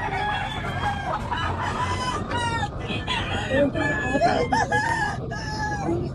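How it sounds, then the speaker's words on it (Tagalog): Pure white chickens cluck and crow together at a busy pet market, a dense overlapping chorus of calls over crowd noise, with a voice talking nearby. "Mga manok, pure white to, mga dre."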